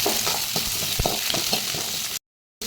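Onion, green chili and cashews sauté in hot oil in a kadai, with a loud, close, continuous sizzle and quick stirring scrapes, then a brief cut to silence at the end.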